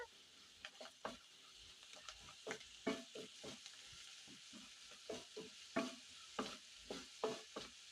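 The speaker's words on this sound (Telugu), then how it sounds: "ఇప్పుడు మనకు ఈ ఉల్లిపాయలు పచ్చిమిర్చి కొంచెం వేగిన తర్వాత" Onions and green chillies frying in a pan, with soft sizzling under repeated close scraping and clattering of a spoon stirring in uneven bursts, quiet overall and no voices.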